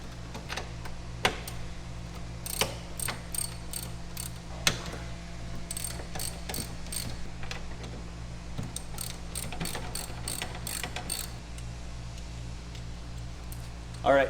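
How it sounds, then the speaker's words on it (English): Half-inch socket on a ratchet turning out four bolts at the back of a sofa in a 2014 Airstream Interstate, giving faint scattered clicks over a steady low hum, with brief talk. "But 1/2-inch socket on 4 bolts here."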